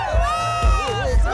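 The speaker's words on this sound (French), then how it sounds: "J'ai toujours voulu qu'une foule crie mon nom, mais pas dans ces circonstances." Cartoon crowd rhythmically chanting a character's name, three loud pulsed shouts about half a second apart, with a melodic music bed sweeping behind them.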